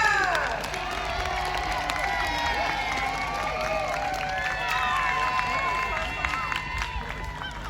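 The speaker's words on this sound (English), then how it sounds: "Give him a cheer! Cheer for the White Knight, Team Tower." A crowd of spectators cheers, whoops and claps steadily for knights at a jousting tournament at Hampton Court Palace, a dense, continuous outdoor roar with scattered shouts and whistles.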